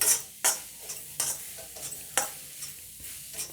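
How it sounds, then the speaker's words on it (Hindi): Cauliflower paratha filling frying in a pan and being stirred, with repeated scraping strokes of a spatula over a soft sizzle, close and fairly loud, strokes coming every half second or so, no voices. "जब तक ब्राउन नहीं होगा इसको यूं ही आप फ्राई करते रहिए"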